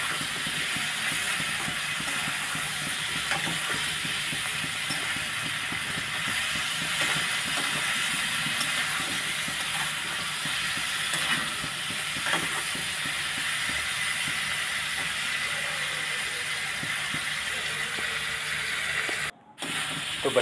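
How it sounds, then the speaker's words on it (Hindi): Diced potatoes for jeera aloo frying over a high gas flame, a steady broad hiss and crackle holding evenly throughout with occasional faint scrapes, cutting out briefly near the end. "गैस की फ्लेम को हाई कर लीजिए और अच्छे तरीके से करीब 1 से 2 मिनट तक इसको भूनिए ताकि आलू अच्छे से फ्राई हो जाए"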